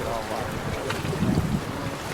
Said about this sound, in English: It's a bit windy out here today, Patty.